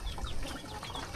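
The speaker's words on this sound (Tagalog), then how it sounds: "Ayan yung mga manok nila rito." Chickens cluck briefly and close by amid rustling farmyard noise, with no talking.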